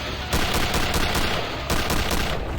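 Rapid automatic gunfire in a first-person shooter fight against a super soldier, loud close bursts of rattling shots with a brief pause between volleys.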